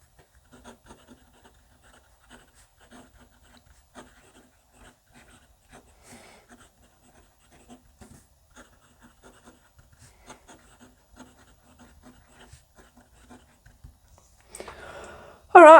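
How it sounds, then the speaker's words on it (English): A Jinhao 82 fountain pen scratches lightly across cheap paper in faint, short strokes with small pauses, ending in a louder rustle of handling. "this pen writes a lot nicer on this cheaper paper than it does"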